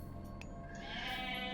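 Goats bleat in the video game Age of Mythology against a steady game background hum, with the bleating growing louder and brighter toward the end.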